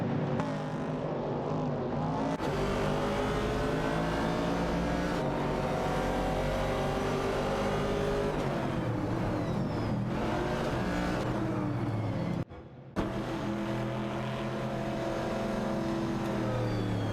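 Race cars in an AI racing video game roar steadily throughout, a dense layered engine drone with shifting revs as cars jockey for position, briefly cutting out near the end before resuming loud and continuous.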